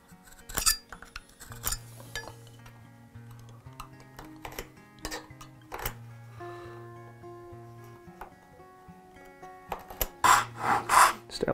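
A hand saw cuts a dovetail kerf in wood for an octagonal box, with a series of quiet, close rasping strokes in an irregular rhythm and a few louder scrapes near the end.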